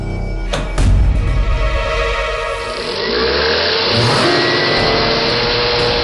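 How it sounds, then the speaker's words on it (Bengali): A mixer grinder running loud and close, with an abrupt start, a surging whine and then a sustained steady motor roar to the end, heard alone. "আবার ওই মিক্সারের আওয়াজ।"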